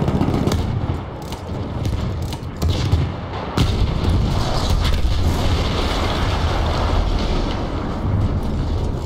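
A cannon explosion in the Battlefield 1 video game: several sharp booms and blasts burst over a dense, continuous roar of battle noise, loud and close.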